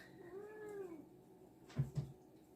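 A cat gives one clear, drawn-out meow while waiting to be fed as canned meat is sliced and cooked in a kitchen, followed by two short, louder thumps or bumps near the end.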